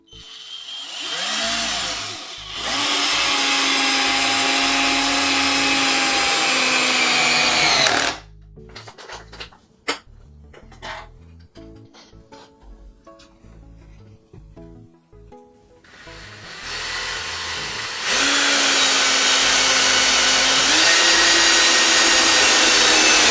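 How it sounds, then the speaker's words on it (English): Small cordless drill driving a Spax screw at full torque, a loud steady whine running alone, dropping out into scattered clicks and knocks midway, then resuming as a sustained motor drone. "let's try it with this small driller that Kat bought a few years ago"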